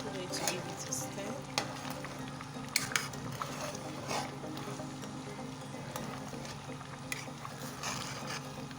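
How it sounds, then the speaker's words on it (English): A spoon stirs okazi leaves into a pot of achi soup, giving soft scraping and swishing over a steady low bubbling simmer, faint and close, with no talking. "I'm going to give it a stir."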